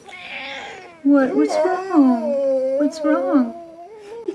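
A cat whines with drawn-out, wavering meows that rise and fall over several seconds, close by. A person speaks briefly at the same time.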